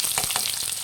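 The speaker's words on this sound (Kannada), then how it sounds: "ಈರುಳ್ಳಿ ಚೆನ್ನಾಗಿ ಫ್ರೈ ಆಗಬೇಕು" Onions sizzle in a pan of hot oil, a loud, steady hiss close by with brief stirring scrapes.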